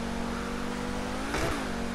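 Pegassi Tempesta car engine in GTA Online holding a steady drone, then a quick rev swells and drops back in the middle, close and continuous.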